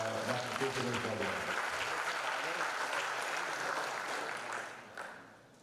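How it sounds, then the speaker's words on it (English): An audience at an international science conference applauds with steady, moderately loud clapping that fades toward the end, with some voices mixed in at the start. "give a big clap again to our Dr. K. Suresh Babu"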